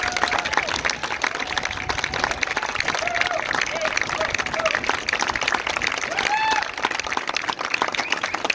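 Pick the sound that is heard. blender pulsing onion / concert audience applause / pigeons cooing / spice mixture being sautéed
concert audience applause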